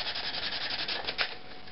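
A Dremel rotary tool grinds on heat-treated steel while reworking an inexpensive Coleman fixed-blade knife, giving a close, steady abrasive whine with slight surges in intensity and no voices over it.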